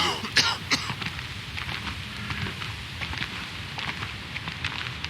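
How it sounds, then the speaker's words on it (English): An old man's raspy coughs and throat clearing in the video game King's Bounty 2, two sharp bursts near the start followed by fainter hacking over a steady ambient crackle. "What are you coughing about, Gramps?"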